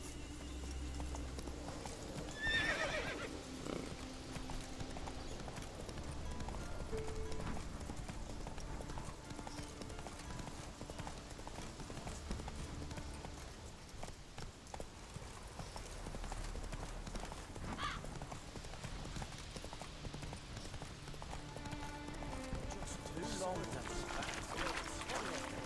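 Hooves of the horse Roach clip-clop steadily at a gallop in The Witcher 3, with a voice speaking over the rhythmic beat and game sounds beneath.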